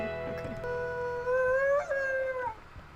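Wolf howls in a wolf video game: a sustained, rising howl with layered tones, joined by a second overlapping howl from another pack member, loud and close, then fading out near the end.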